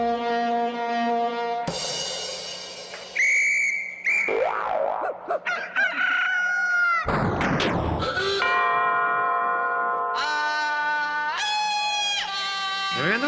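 Doorbells in a comedy sketch ring one after another, a run of varied chimes, ding-dongs and tonal buzzes, each clear and close with short gaps between them.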